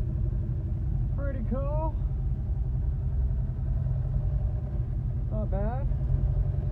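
The engine of a Datsun 521 pickup truck drones steadily and loudly while the truck is driven, with a carburetor that still needs tuning. Brief speech breaks in twice over the continuous low rumble.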